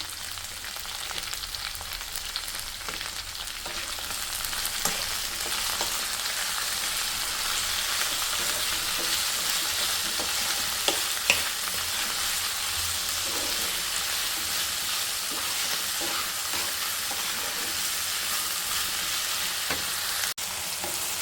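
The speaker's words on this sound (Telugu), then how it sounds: "ఇప్పుడు ఇందులోకి కొద్దిగా సాల్ట్ అయితే వేసుకొని ఫ్రై చేసుకున్నాం." Okra (ladies finger) frying with salt in a pan, making a continuous, even sizzle with fine crackling and a few sharper pops and clicks, heard close and steady from start to finish.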